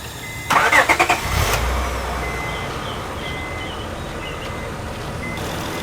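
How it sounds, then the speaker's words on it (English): A car engine cranks with a quick rhythmic churn, catches, and then settles into a steady idle, nearby and loud at first, with a few faint electronic chimes over the running engine. "Start the car again."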